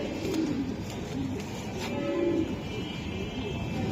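Racing pigeons coo in low, rolling murmurs, a few soft phrases rising and falling close by against a steady background rumble.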